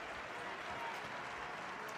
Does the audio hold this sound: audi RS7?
no